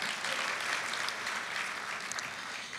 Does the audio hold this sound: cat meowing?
no